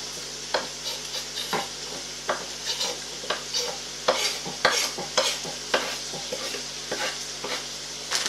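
Garlic and chilli frying with well-browned onions for pilau rice, a soft steady sizzle in the pan broken by regular scraping stirs of a spoon, close and fairly quiet, with no voices.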